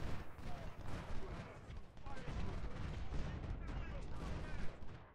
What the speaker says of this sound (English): his artillery now is blasting away